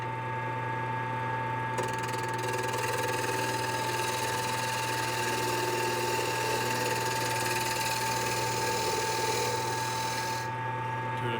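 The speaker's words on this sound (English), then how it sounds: "Now we're going to do this shear scrape." A wood lathe spins a small lidded box while a shear scrape cut is made, giving a constant motor hum with a steady raspy scraping over it, close and continuous.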